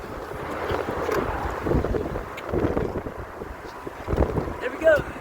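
Gusty wind buffets the microphone on a windy day outdoors, rising and falling in loud roaring surges with faint background sounds.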